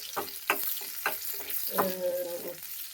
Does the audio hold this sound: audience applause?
no